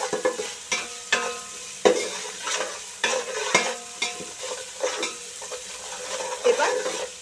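Ginger garlic paste frying with a torn bay leaf in a pot for beef tehari; continuous sizzling broken by frequent spoon stirs and scrapes at an uneven rhythm, close and moderately loud.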